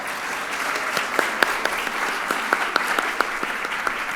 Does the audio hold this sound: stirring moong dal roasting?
no